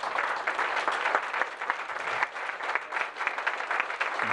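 Audience applauds advisory council members at a Kosmos Energy innovation center incubation hub launch event, a sustained, even round of clapping from a sizeable crowd.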